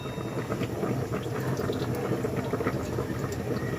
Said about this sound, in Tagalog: Painit tayo ng ating lutuan. Sabay gamitin natin dito is chicken oil.